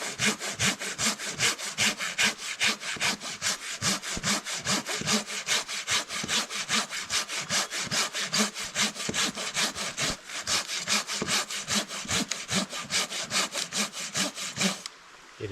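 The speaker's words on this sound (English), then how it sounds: "Let's just do a top cut and see what we get." A hand saw makes a top cut through brittle deadfall wood in steady back-and-forth strokes, about two per second, each with a rasping scrape. The sawing is close and loud for about fifteen seconds and stops abruptly at the end.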